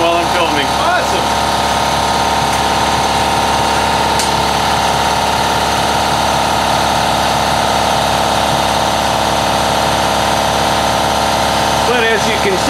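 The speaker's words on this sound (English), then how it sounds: "that compressor that you hear" Air compressor running continuously, a loud, steady mechanical drone with a low vibrating hum that fills the whole stretch.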